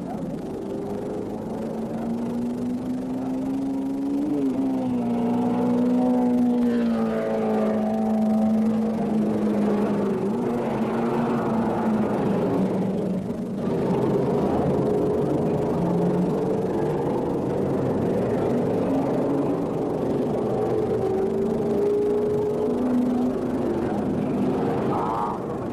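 Racing cars of the 1972 Interserie at Keimola, including a BRM and a McLaren, on a wet track, their engines whining and droning steadily as they pass, rising and falling in pitch, loud and continuous.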